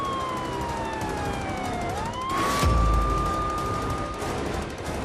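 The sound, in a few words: police car siren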